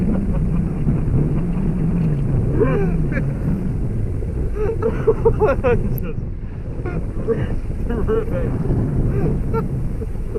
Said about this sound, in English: This is the worst boat ride I've ever experienced.